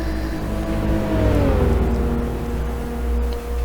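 Racing car engine in Assetto Corsa at Monza, 1966 circuit, downshifting with flames from the side pipes: a loud, steady engine drone whose pitch dips and slides through the shift, continuous and close with no talk.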